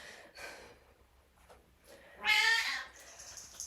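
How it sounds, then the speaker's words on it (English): A cat meows once during a quiet indoor seated chair yoga session: one loud, close, drawn-out meow after softer breathy sounds. "my cat has now decided to join the party"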